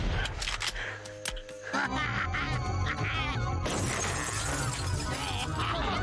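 Glass shatters loudly in a horror movie scene, a sharp crash followed by a dense spray of breaking shards over layered soundtrack noise, with faint laughter and reactions around it.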